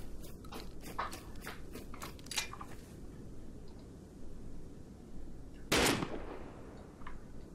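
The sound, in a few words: gunshots in the video game Rust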